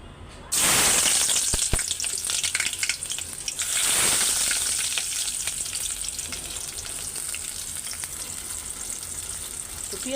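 Onions hit hot oil in a pan and burst into a loud, close sizzle that is sudden at first, then eases into a steady frying hiss, with brief stirring sounds and no talking.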